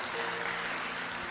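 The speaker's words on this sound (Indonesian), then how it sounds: "boleh tepuk tangan" Applause from a church congregation during a sermon, a dense, steady wash of clapping that holds evenly through its short length.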